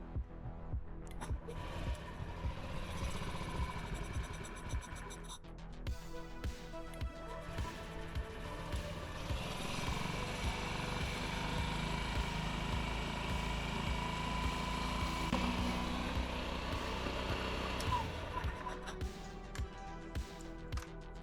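A Honda Ruckus scooter idling after a new fuel line was fitted, a steady, continuous mechanical drone with a constant rattle that holds evenly throughout, close by, with no speech.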